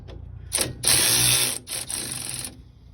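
A ratcheting wrench works the brake caliper bracket nuts on the front brakes of a 2020 Ford F350, giving close, loud bursts of metallic clicking and whirring with short gaps between them.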